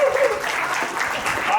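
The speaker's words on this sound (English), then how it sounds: "you're applauding because I'm the last one, right?" Applause from a seminar audience continues under a voice as he starts speaking, a dense, even patter of clapping, fairly loud and sustained for the whole short stretch.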